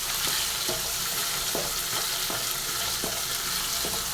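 Tomatoes and onions sauté in plenty of oil for a tamarind onion curry, a dense unbroken sizzle with soft stirring knocks recurring about every half second, no talking.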